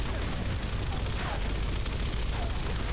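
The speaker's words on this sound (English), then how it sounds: "Maybe if I just keep shooting." Gunfire in the video game Gears of War, a dense, continuous rattle of shots that stays loud and close throughout without pause.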